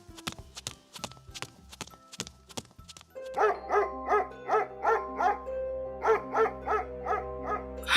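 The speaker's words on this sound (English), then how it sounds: "Dogs!" Dogs bark in quick repeated volleys, first sharp and spaced, then a denser run of loud, close barks over a low rumble, with no talking.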